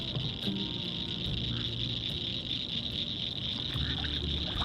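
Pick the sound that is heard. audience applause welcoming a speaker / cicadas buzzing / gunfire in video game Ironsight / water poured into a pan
cicadas buzzing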